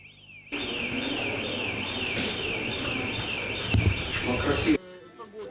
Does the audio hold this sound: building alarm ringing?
yes